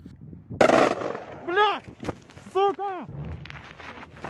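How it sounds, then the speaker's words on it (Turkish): A sudden loud blast of gunfire or an explosion bursts out on Snake Island during the war in Ukraine, followed by raised, shouting voices and further sharp cracks. "Aniden gelen silah ve patlama sesleri sonrası asker yere düşüyor ve kayıt kesiliyor"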